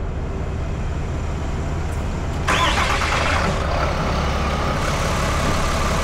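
A high-output Cummins diesel truck engine runs with a steady, deep drone that swells noticeably louder partway through and stays loud, with no talking.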